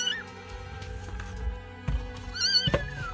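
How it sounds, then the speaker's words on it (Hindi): A cat meows several times, thin and plaintive, against a faint background hum, with a louder cry near the end. "हम देख और सुन सकते हैं कि अंदर से किसी बिल्ली की आवाज आ रही है।"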